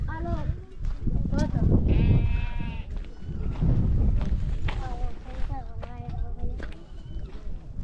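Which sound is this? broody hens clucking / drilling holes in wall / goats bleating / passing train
goats bleating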